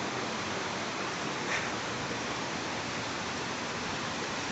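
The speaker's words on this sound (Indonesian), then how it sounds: "semakin dekat dengan air terjun" Waterfall near Malino, a dense, constant rushing hiss of falling water, steady and fairly loud with no break.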